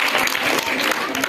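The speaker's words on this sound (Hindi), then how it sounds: "सही है जी, जोरदार तालियां भाई।" Audience applause in a school general-knowledge quiz after a correct answer about the Charminar, a brief burst of dense, steady clapping from a sizable crowd.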